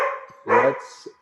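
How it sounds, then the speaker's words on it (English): A pet dog gives a single short bark indoors, loud and close, with a brief trailing yip after it and no talking. "That's my dog. She makes an appearance every once in a while on this podcast."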